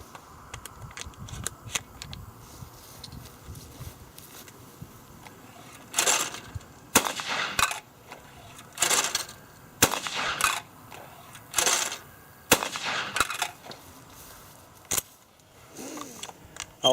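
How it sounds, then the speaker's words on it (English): A Fabarm L4S autoloading shotgun fires 1 1/8 ounce Gold Medal loads outdoors, with about ten sharp, loud reports in an uneven sequence after a quiet stretch of handling noise. "then I'll shoot some gold medal 1 1/8 ounce"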